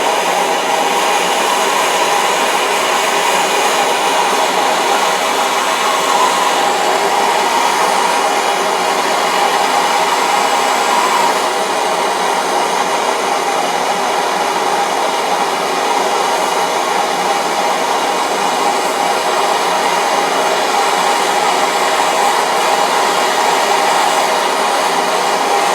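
Constant, loud roaring hiss of a brazing torch flame heating steel landing gear on a clipped-wing Taylorcraft, steady and close throughout with no voices.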